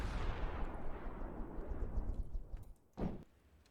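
A main cannon in the video game From the Depths fires with a deep, booming blast that rolls off over several seconds, followed by a sharper second report near the end, no talk over it.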